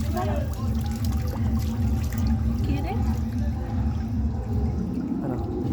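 Water being poured and splashed while a van is washed, a steady wet running and splashing sound close by with some background noise.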